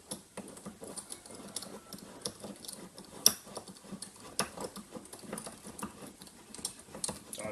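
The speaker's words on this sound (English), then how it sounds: "when you screw the vice thread out," Thread of a cheap cross-slide vice being screwed out, giving a run of light, irregular ticking and pattering scrapes with one sharper click midway, close and fairly quiet with no talk.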